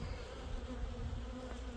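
A steady, soft drone of many honey bees buzzing together, continuous and close, with no voices.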